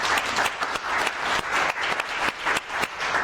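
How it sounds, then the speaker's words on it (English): Audience applause greets The Baby Farmers at a Fringe comedy show, lively clapping from a roomful of people with sharp individual claps popping out of the steady roar, sustained throughout. "Give them a round of applause."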